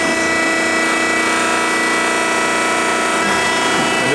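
Extrude Hone 10/8 Spectrum abrasive flow deburring machine cycling as its top cylinder moves down, a steady loud mechanical hum and hiss with a dense, constant tone and no talk.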